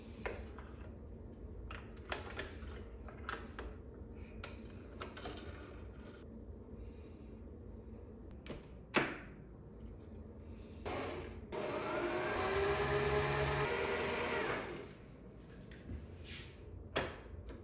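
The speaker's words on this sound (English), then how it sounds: "When you wind your bobbin, make sure it's done evenly." A sewing machine winds thread onto a bobbin in a steady motor whir lasting about three seconds. Mechanical clicks and handling taps come before and after it, and no one speaks.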